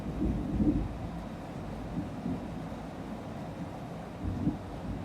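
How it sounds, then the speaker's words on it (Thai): Low rumbling thunder rolls in a few swells over steady rain and wind noise, distant and muffled. "ฟ้าร้องด้วย"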